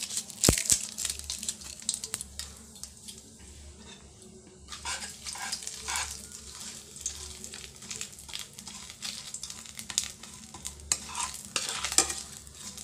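Cumin seeds and cardamom pods fry in hot oil for a tempering while a spoon stirs them, giving steady crackling sizzle with close scraping and clinking stir strokes and no talking.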